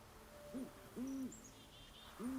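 Three owl hoots in a bird call from the video game Where Winds Meet, each a short, clear, rounded tone with gentle pitch bends, spaced about a second apart and alone against a faint ambient background.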